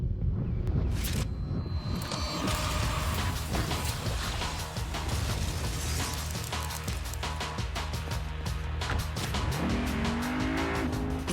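A 306-horsepower Lexus RC Coupe is driven hard, its engine revving loudly with repeated tire squeals and skids. The car passes close by and the sound stays prominent throughout, with no voices.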